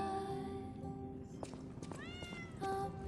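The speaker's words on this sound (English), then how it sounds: "Meow." A cat meows several times in the video game Lies of P, short tonal calls with rising and falling pitch over a quiet steady ambient hum, fairly close and clear.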